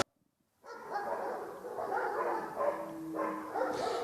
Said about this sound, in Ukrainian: ці собаки це спеціальні бельгійські вівчарки